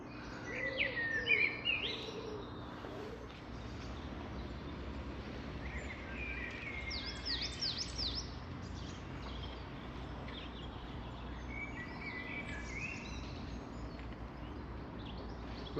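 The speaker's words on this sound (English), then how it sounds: "I think today's film is going to be accompanied from start to finish" Birdsong in English woodland at Renishaw: varied chirps, trills and whistled phrases from several birds, some close and some farther off, over a steady outdoor hum, with no talking.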